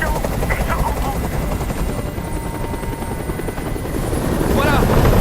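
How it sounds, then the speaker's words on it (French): A helicopter's dense rotor roar in the video game Detroit: Become Human, during the hostage scene, fills the scene, steady and close, with brief voice fragments and a rising tone near the end. "Fais dégager cet hélicoptère,"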